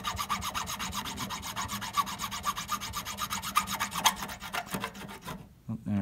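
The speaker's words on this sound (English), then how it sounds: "my slotting files, and I've got my 1, 2, 3, 4, 5, and 6. And I file it down" Slotting files rasp across a guitar nut as the string slots are cut, a fast, even back-and-forth scraping rhythm held close and clear, ending with a brief pause and a final stroke.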